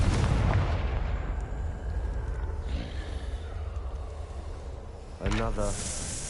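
Confringo fire spell blasts in Hogwarts Legacy, heavy booming impacts with rumbling tails, one near the start and another sharp burst near the end, amid game ambience.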